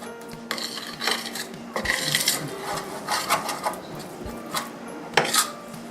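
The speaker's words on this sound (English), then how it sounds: "just want to get all this flour incorporated into the butter" A spoon stirs flour into melted butter in a pot for a potato cheese soup, giving intermittent scraping, rubbing and clinking against the metal, close and fairly quiet.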